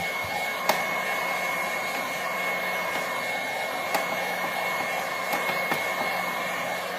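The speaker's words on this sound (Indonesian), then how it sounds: "Bisa juga kita bantu dengan hot gun seperti ini." A heat gun blows hot air over a printed T-shirt transfer, a steady, close, airy hiss with a constant motor hum and a few faint clicks, no voices.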